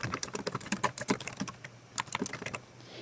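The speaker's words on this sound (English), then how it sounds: "Students can add a note by clicking the notes field and typing their note into the text box." Keys clack on a computer keyboard as a note is typed into a text box, a close, quick irregular patter of keystrokes with a brief pause, no voices.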